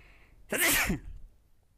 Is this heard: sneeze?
yes